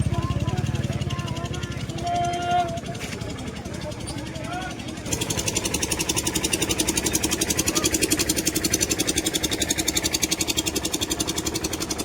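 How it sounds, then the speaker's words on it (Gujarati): A stone-laden tractor pulls in at a busy village market, its diesel engine chugging steadily and growing louder and rougher midway as it draws near, with people talking throughout. "હાલો આપણે પાણાનું ટ્રેક્ટર આવી ગયું."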